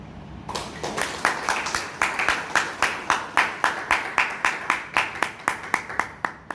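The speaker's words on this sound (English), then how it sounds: "let us give a big round of applause to the speaker." An audience at a Toastmasters meeting in Bangalore claps steadily for a speaker for several seconds, individual hand claps distinct in a brisk, fairly even rhythm, moderately loud, with no talking.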